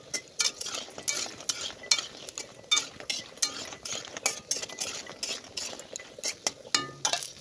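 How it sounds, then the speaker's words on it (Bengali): Lentil badi (dal bori) fry in a hot wok, with a soft sizzle under repeated rhythmic scrapes and clinks of a utensil stirring against the metal, quiet and close, with no talking. "কড়াইটা গরম হয়ে গেছে, তো আমি ডালের বড়িগুলো দিচ্ছি, দিয়ে ভালো করে ভেজে নিই ডালের বড়িগুলো।"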